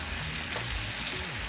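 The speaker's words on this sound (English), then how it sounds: "sizzling and sauteing in a little bit of oil that I brought to a frying pan" Seasoned chicken sizzles in a little oil in a frying pan, a steady close hiss and crackle that continues alone throughout.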